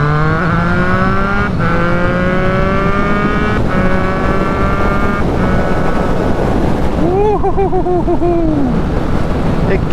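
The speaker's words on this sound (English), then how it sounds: "there is a lot of wind, an awful lot of wind in fact" Heavy, continuous wind roar buffets the rider on a Triumph Street Triple RS motorcycle at speed, loud and broadband throughout, with the engine's rising and shifting tones whining underneath and a brief revving swell near the end.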